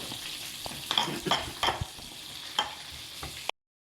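Pieces of meat fry and sizzle in a pan while being stirred, with a steady hiss broken by several sharp scraping stirs spread across a few seconds, fairly close and with no talking.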